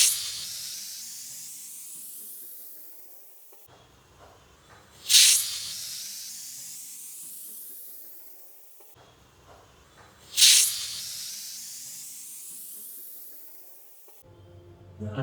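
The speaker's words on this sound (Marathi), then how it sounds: "याला कुकरला झाकण लावायचं आणि शिट्ट्या काढायच्या" A pressure cooker cooking mutton lets off steam in repeated bursts, each loud sharp hiss fading slowly into a long softening whoosh, three cycles heard close up with no voices.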